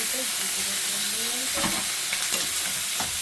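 Sausages frying and sizzling in a pan alongside broccoli, a steady close hiss with a few scraping stirs and turning clatters as they are flipped, no talking.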